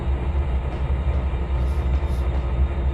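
A train coasts along in the Trainz 2022 rail simulator, a steady low rumble of wheels and running gear with a faint hiss above, continuous and close, without speech.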